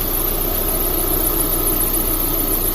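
A 2007 Subaru Forester engine idles steadily with the air-conditioning compressor spinning, a continuous close mechanical hum and hiss without breaks.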